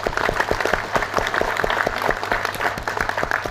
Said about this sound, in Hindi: हमारे हरेश भाई ठुमर के लिए एक बार जोरदार ताली।